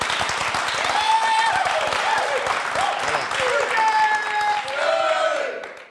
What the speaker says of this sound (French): Je veux qu'on acclame le Seigneur pour cela.